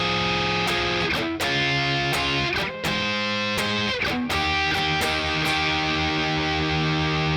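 Distorted electric guitar strumming simple two-note chords of a song in a steady down-stroke rhythm, loud and sustained, with short breaks between chord changes.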